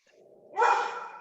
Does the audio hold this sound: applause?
no